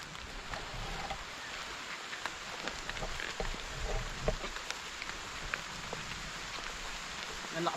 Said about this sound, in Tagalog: Ang lakas po ng ulan, mga utol.